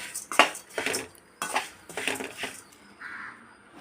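Flattened rice (aval) being dry roasted in a pan for aval laddu, with repeated scraping and clinking strokes of a spatula against the metal, close and fairly loud, with short pauses between strokes and no talking.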